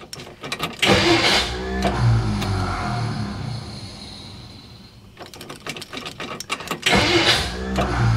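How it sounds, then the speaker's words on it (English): A 1957 Plymouth two-door barn find, parked over 20 years and fitted with new spark plugs, cranks with repeated starter bursts, pauses, then cranks again and catches into a rough running engine, loud and close. "let's go ahead and attempt to fire it up again with the new plugs"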